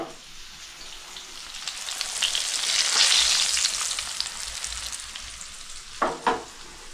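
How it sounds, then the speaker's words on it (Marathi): Fish fries in a pan of oil at home with a loud, dense sizzle that swells in the middle and eases off, and two brief clatters near the end. "आता इथे बघा मच्छी फ्राय करते"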